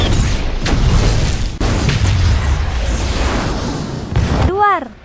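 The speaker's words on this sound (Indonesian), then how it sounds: "kapal Lander meledak, hancur berkeping-keping" Spaceship explosion from the film Alien: Covenant, a Lander craft blown apart after a fuel tank is shot, heard as a long loud roaring blast with rumbling bursts, ending in a brief ringing whine.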